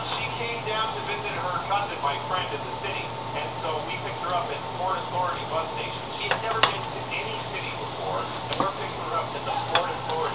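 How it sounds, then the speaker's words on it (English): Flour cooking in a pan for cream corn, sizzling and frying steadily while being stirred, with scraping stir strokes throughout the nearby, fairly loud sound and occasional sharper clinks. "Letting that flour cook some so it won't have a flour taste."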